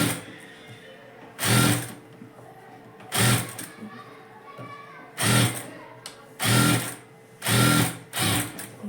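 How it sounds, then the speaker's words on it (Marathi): A sewing machine stitches blouse fabric to its lining, running in five or six loud, close bursts of rapid whirring, with short quiet pauses between runs. "पहिला पिना लावून व्यवस्थित सेट केलाय आणि नंतर शिलाई मारायला घेतली."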